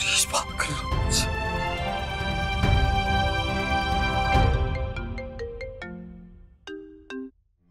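A phone rings with a melodic electronic ringtone in a TV drama scene, a loud bright tune that repeats for several seconds before thinning into sparse tones and cutting off.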